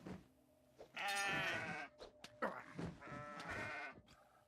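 Goats bleat in a fight in the video game Kenshi, giving several wavering, nasal cries in quick succession, fairly close and clear, with no voices over them.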